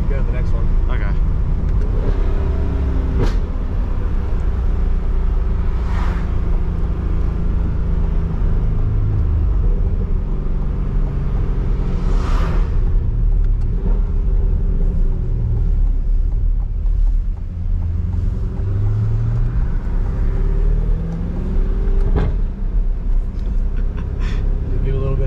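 A Chevrolet C8 Corvette Stingray on the move, its engine rumbling loudly and continuously under heavy wind and road noise, with people talking in the cabin.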